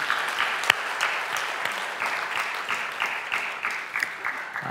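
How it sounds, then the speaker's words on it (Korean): Applause in a church service fills a short stretch, with many hands clapping in a steady, moderately loud patter and a single sharper clap near the start. "찬양을 받으신 하나님께 영광의 박수 올려드리겠습니다."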